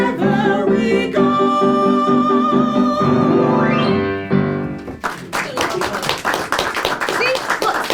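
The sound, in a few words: audience clapping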